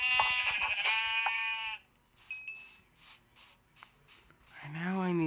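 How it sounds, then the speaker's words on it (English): Sheep in the video game Minecraft bleat several times in quick succession, giving short, wavering, nasal calls that are close and clear and separated by brief gaps. "Oh, there's plenty of my sheep."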